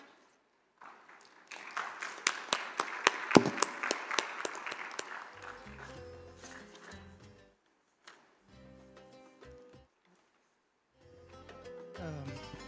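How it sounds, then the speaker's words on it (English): An audience at a public health session on hygiene and sanitation claps for a panel, a loud burst of applause that peaks early then thins into scattered claps, with music and a brief voice following. "Once again, a round of applause for our panel."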